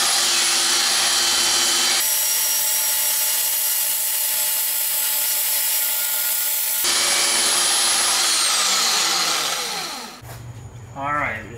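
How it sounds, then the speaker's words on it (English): A grinder runs loud and continuous against metal, trimming the edge of a custom part for a Nissan Cefiro with a K24 engine swap, then winds down and stops near the end. "I'm just gonna grind this little edge down and it's perfect"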